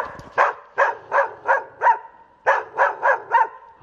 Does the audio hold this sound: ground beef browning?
no